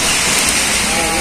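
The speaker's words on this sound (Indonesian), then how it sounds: "Hujan debu, hujan badai." A heavy rainstorm with strong wind around large HD785 and HD465 mining dump trucks makes a loud, dense, unbroken roar of rain and gusting air, close and constant throughout.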